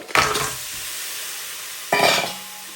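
Two loud sizzling bursts as crab hits a hot pan, each crackling fry fading briefly, with a gap of quieter sizzle between them.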